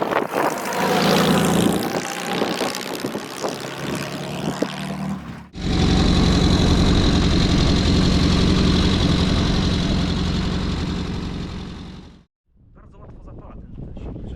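A 1937 Puch 800 motorcycle engine fires up and settles into a loud, steady run for several seconds, then cuts off abruptly, with talk and handling noises before it starts.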